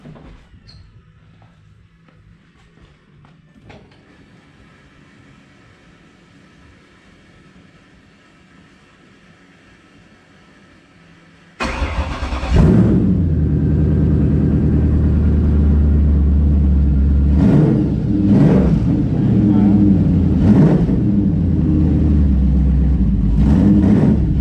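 A drag car engine with bullet mufflers straight on the headers cranks over faintly, then fires and roars into a loud, steady idle punctuated by several sharp revs, close up with no talk.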